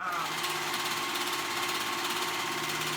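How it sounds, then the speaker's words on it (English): Sewing machine stitching the short sides of a knit neckband together, a continuous fast mechanical whir with steady rhythmic chatter, moderately close and unbroken. "we're gonna sew those short sides together to make one continuous band on the round"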